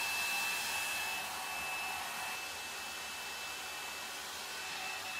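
A L'ange La Volume hair dryer runs on its cool setting, blowing with a steady, loud whooshing hum close by throughout.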